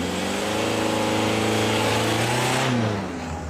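A car engine hums steadily from inside a moving car on a village road, a close, continuous drone with rising and falling pitch, easing off near the end with no voices heard.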